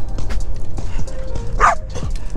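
Several dogs bark and yip in short bursts at a dog park in Darren Goforth Park, Houston, close and loud with outdoor background noise.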